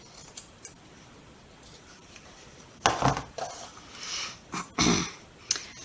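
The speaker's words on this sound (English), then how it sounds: "I'm just going to cut it right here, about 6 inches or so." Scissors snip through ribbon while a bow is made for a pine cone ornament, giving a couple of crisp, close cuts after a quiet stretch, followed by lighter rustling handling.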